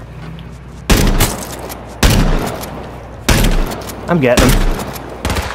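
Bursts of gunfire in the video game H1Z1, four or five loud shots or short volleys spaced about a second apart, with a voice talking over the last of them.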